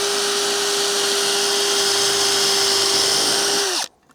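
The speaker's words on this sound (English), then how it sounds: "I'm going to pre-drill it just to stop the wood from splitting." A power drill pre-drills a wooden roof batten before aluminium roofing nails go in, its motor holding a steady whine close up for nearly four seconds before it cuts off sharply.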